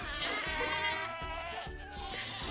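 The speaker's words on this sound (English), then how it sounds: "So a regular goat just makes the screaming sound when they're milked." A screaming goat being milked gives a loud, drawn-out, quavering bleat close by, with faint knocking and background barn noise in the room.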